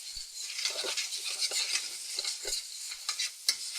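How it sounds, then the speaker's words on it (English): Chili pods, minced onion and garlic-ginger paste sizzle in a hot pan, with steady frying crackle and occasional stirring scrapes and clinks of a utensil against the pan. "Then we're gonna add some chili pods."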